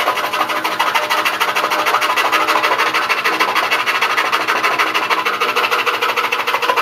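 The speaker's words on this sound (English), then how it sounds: "I want to run the saw at about 2, and this is the DeWalt." A DeWalt scroll saw runs at a slow speed while cutting marquetry veneer, giving a steady, close rasping buzz that holds evenly throughout with no voices.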